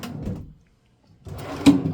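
A drawer in a Doubletree hotel room slides open or shut twice, a short wooden scrape and thump, then a pause and a louder second movement ending in a knock, fairly close.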